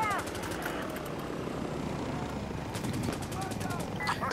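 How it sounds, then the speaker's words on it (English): AR rifle fire in Insurgency Sandstorm at night with night vision: rapid bursts of gunshots cutting through dense background noise, with voices talking over the action. "the rate of fire in the AR is insanely high"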